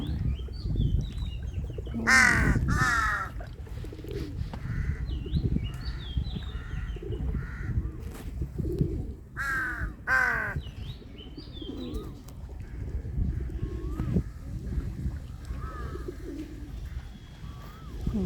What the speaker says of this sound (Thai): เสียงกา